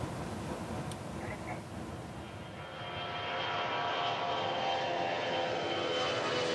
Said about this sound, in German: Die Maschine konnte pünktlich abheben.